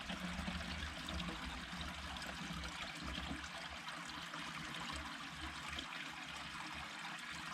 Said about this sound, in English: It's a natural spring. It runs all year round.